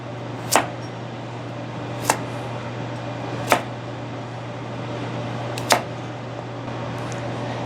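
A knife chops through a carrot on a cutting board, four sharp, separate cuts spaced a second or more apart, with no one speaking and a steady low hum underneath.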